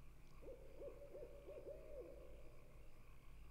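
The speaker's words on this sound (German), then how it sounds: "Ja, die Eule." An owl in The Secret of Monkey Island game gives a soft run of about six quick hoots over a steady low background hum.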